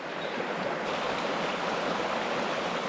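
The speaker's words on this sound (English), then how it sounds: "we're going to cross this river over here" The Barclay river in the Victorian High Country flows with a constant broadband rushing wash, steady and fairly close, with no other sounds over it.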